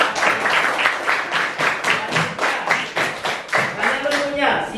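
A class of elementary pupils claps together during an Islamic religious studies lesson at SD Muhammadiyah 09 Jakarta, a fast, steady, rhythmic patter of many hands close by, with a voice briefly at the end.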